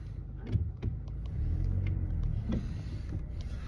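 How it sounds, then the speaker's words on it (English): A low, continuous rumble of traffic with faint clicks and knocks, as if vehicles are rolling past nearby. "A lot of cars right now."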